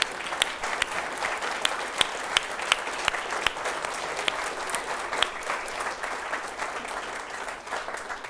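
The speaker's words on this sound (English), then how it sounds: "Let us give you a round of applause." Applause for city employees at a State of the City program, a sustained crowd of many hands clapping with some sharper individual claps standing out, steady and fairly loud for the whole stretch.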